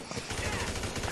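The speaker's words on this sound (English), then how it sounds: "Now I'm shooting." Rapid automatic gunfire in the video game Grand Theft Auto V, a dense, continuous burst of shots filling the whole moment with loud, sustained crackle and no pauses.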